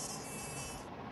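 A mosquito buzzes close and loud as a steady, continuous whine throughout the short moment, with no other sounds around it.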